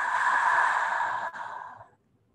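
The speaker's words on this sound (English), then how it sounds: "Inhale and exhale." A single deep, slow breath during a guided meditation, an audible exhale close to the ear that fades out into silence.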